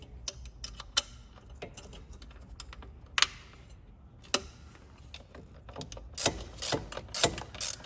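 A ratchet tightening two 8mm bolts on the intake pipe of a Ford Ranger 3.2, giving close, faint clicking runs with a few sharper metallic taps and short bursts of quick clicks near the end; no talking.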